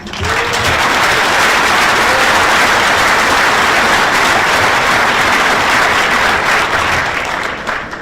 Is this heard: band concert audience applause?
yes